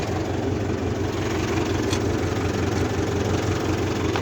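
A tractor engine runs steadily at idle, a loud continuous low rumble with an even throb and no pauses.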